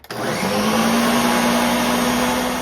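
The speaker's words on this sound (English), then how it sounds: "Let's blend that up." A blender whirs up grated parmesan, basil, parsley, avocado and black pepper. The motor starts abruptly and settles into a loud, steady whine that holds to the end, with no voices.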